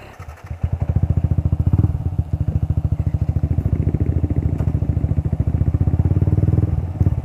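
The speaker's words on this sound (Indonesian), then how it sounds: "sekarang saya akan coba jalan pakai motor ini" A 2018 Yamaha All New Vixion R motorcycle pulls away and rides, its single-cylinder engine thumping in a fast, even pulse close by, rising and settling with throttle changes.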